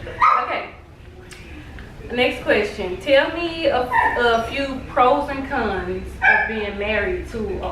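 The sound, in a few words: dog barking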